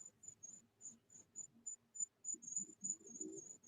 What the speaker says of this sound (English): Are you outside with the crickets?